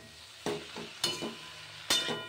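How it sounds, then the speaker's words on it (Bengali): Bhetor greens go into a hot pan and are stirred through, giving three bursts of scraping and rustling sizzle over a low steady fry, close by, with no talking. "এই দেখো ভেতর শাকটা আমি দিয়ে দিলাম, দিয়ে নাড়াচাড়া করে ঢাকা দিয়ে রাখবো"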